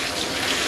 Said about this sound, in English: So I start rinsing the top of the dog first so that everything runs down.